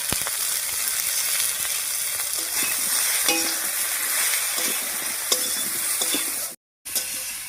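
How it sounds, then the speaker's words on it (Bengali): Loud, close frying of a lata fish curry with turmeric, salt and green chili being stirred in the pan, continuous sizzle with scraping spoon strokes and a brief dropout near the end, no voices. "হলুদ, লবণ আর লঙ্কা দিয়ে একটু নাড়িয়ে নিলাম"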